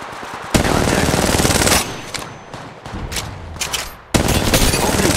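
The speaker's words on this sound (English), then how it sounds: "Opening fire on the enemy." Automatic weapon fire in the battle royale game Apex Legends, loud sustained bursts that stop for a moment and then return, close up and with no speech over it.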